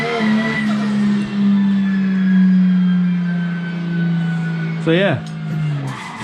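Simulated car drifting in a racing game, a sustained droning engine tone with screeching tire skids and a sharp squeal near the end, steady and close, with someone talking briefly.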